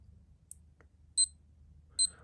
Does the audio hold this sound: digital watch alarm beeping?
yes